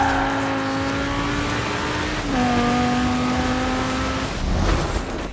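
A car in Forza Horizon 4 drives at speed, its engine holding a steady high drone that drops in pitch at a gear change and then builds again, loud and close with no talking.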